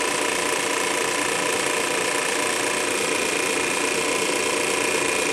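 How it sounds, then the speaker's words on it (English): A refrigerant recovery machine, used while converting a window air conditioner into a split unit, runs with a loud, constant mechanical drone and rattle at close range. "I'll turn the recovery machine off."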